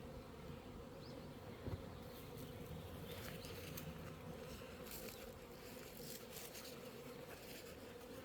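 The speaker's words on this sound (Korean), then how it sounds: "여러분 꿀벌들이 좀 조용하겠죠?" Honeybees buzz in a steady, dense hum around an opened hive during a varroa mite density check, a close, continuous swarm drone with brief louder passes and no talking.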